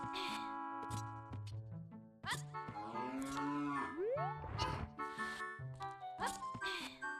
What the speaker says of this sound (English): Get that weird warping sound on the cow sound, so it sounds really messed up.